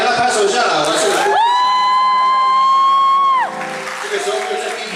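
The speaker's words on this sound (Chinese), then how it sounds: "给他拍手一下啦" Applause and cheering from an audience at a live band concert, a loud, dense wash of crowd noise with a long sustained whooping tone over it, fading to a quieter crowd murmur near the end.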